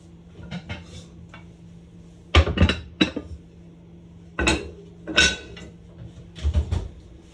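Heavy cast dish with sourdough dough being handled and slid into a hot home oven, a series of sharp clanks and knocks of metal and ceramic, fairly close, with gaps of quiet between.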